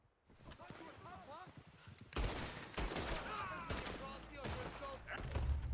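Sharp gunshots fired in the Western video game Red Dead Redemption 2, a scattered volley of loud cracks that grows denser after the first couple of seconds, mixed with voices talking throughout.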